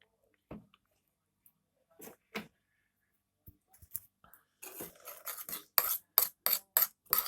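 Blueberries mixed with sugar and sour cream being stirred in a bowl, sparse soft squishes and scrapes at first, then a run of quicker, louder scraping strokes near the end.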